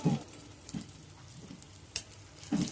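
Fish frying in a pan gives a faint, steady sizzle with a few soft clatters and stirring bumps. No one speaks.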